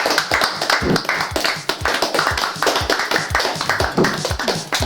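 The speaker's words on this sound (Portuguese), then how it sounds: "E salve palmas para o resto, pá" A few podcast hosts clapping close to the mic, quick uneven handclaps in a rapid rhythm with sharp percussive slaps, loud and near.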